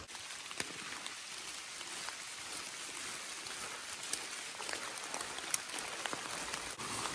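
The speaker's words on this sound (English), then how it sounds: "we got a couple bands of rain moving through, so might just be wet for the rest of the afternoon" Steady rain patters on an Appalachian Trail hiking path, a soft continuous hiss with scattered close drips and taps, fairly faint throughout.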